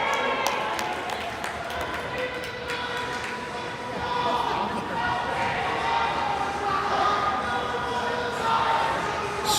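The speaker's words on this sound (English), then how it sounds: "Spirited crowd down to the left side" Spirited crowd noise at a varsity ice hockey game at Rocket Ice Arena, a steady wash of cheering and chatter filling the rink, with announcer-style talk over it.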